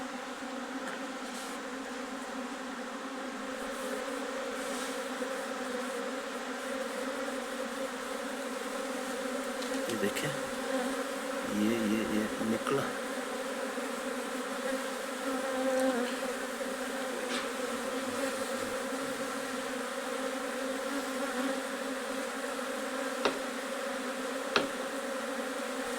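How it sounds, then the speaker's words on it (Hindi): Large swarm of honey bees buzzes steadily as it searches for its queen while being settled into a box, a dense continuous drone throughout. A person speaks briefly partway through. "हनी बीज जो है इस वक्त अपनी रानी की खोज कर रही है।"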